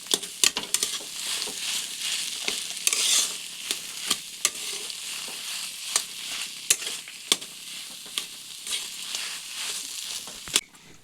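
Vegetable chop filling, sweetened with a spoonful of sugar, frying in a pan: a steady broadband sizzle runs throughout, punctuated by frequent sharp scrapes and clicks of a spatula stirring, with no talking.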